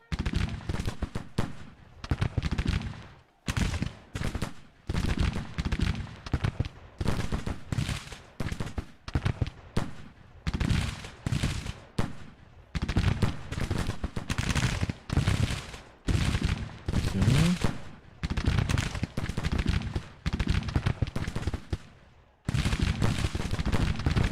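Civil War musket volleys and artillery fire in the strategy game Grand Tactician, with a brigade of about 1,600 men under fire: loud, dense rolling crackles of massed shots in long bursts broken by short silences, with no talking.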